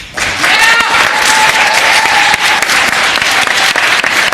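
Members of the Virginia House of Delegates applaud in their chamber for two departing pages. The clapping is loud and dense, sustained evenly for a few seconds, with a faint voice or tone underneath.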